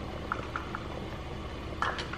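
A peach cobbler mixture made from scratch bubbles as it cooks, giving a few faint, scattered soft pops against a quiet background hiss.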